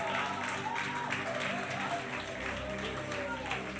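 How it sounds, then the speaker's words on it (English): A church congregation claps and applauds in a steady, dense wash of sound during a sermon, with a preacher's voice carrying over the clapping throughout. "Clap for Jesus."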